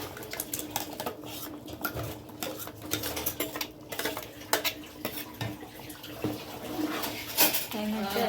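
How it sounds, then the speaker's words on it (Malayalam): A metal spoon clinks and scrapes around a pot as ground coconut paste goes into a simmering chicken curry, a Coorg-style dish, with irregular close knocks and stirring over a faint kitchen background. "ഇപ്പോൾ നമ്മുടെ ചിക്കൻ വെന്ത് വന്ന് അപ്പോൾ നമ്മൾ അതിൽ അരച്ച് വെച്ച തേങ്ങ ഇടാം"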